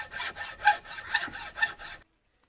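A handsaw cuts into a small piece of wood in four quick, close, rhythmic rasping strokes, each with a sharper push at its peak, then stops into silence. The work is part of making a homemade fish-hunting spear gun.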